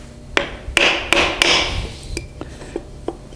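Sharp metal knocks on a seized old rusty engine being stripped, its pistons stuck and crankshaft damaged; several loud, ringing hammer strikes in an uneven rhythm, then lighter taps trailing off.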